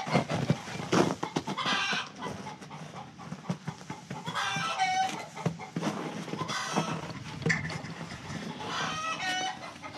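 Chickens cluck and squawk around a farm chicken coop, with overlapping calls close by and what sounds like a goat or rooster cry mixed in, steady throughout.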